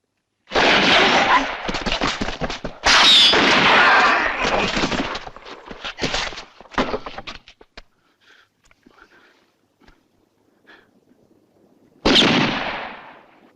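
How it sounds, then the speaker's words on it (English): Explosions and gunfire in a western film scene: loud, dense bursts of shots and blasts for several seconds, a quieter lull with scattered distant pops, then another sharp loud burst near the end. "Where's that bombing? Right around the corner."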